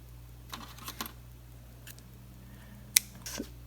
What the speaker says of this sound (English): we're just going to cut the string, but leave a tail because we'll deal with this later